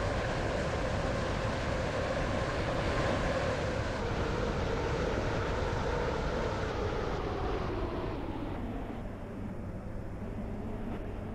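A Class 508 train in Roblox Stepford County Railway rolls into a station with a steady mechanical hum and rumble, its whine gradually lowering as it slows and the high tones fade away.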